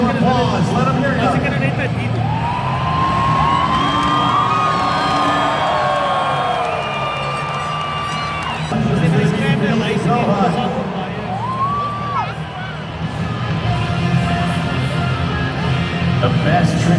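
A large arena audience at Monster Jam roars and claps continuously during a freestyle motocross best-trick contest. Sweeping dirt bike engine revs rise and fall over the crowd noise, with a brief surge of cheering midway.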